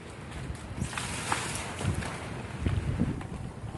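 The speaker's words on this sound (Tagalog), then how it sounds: "Natumba na yung mga saging. Hangin pa lang yan, guys." Strong gusty wind ahead of Typhoon Rolly roars steadily into the microphone, buffeting in heavy low rumbling surges that build louder toward the end, with no voices.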